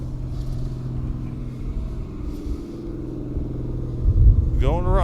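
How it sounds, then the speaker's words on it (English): A Dirt Car Pro Stock race car rolls through the pit area on a practice day, its engine rumbling low and steady nearby, then swelling briefly as it passes, with voices talking over it. "Dirt Car Pro Stock going back to his pit area."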